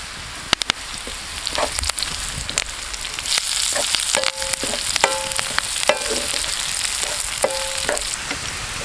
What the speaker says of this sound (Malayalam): അപ്പോൾ നമ്മൾ കറിവേപ്പില ഇട്ട് കൊടുക്കാം